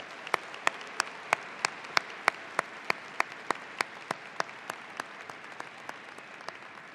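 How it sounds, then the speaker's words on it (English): Steady applause from a commencement crowd in an arena as silver-anniversary graduates leave the floor, with a sharp, regular clap close by standing out over the distant mass of clapping. "let's give them a huge round of applause for their efforts"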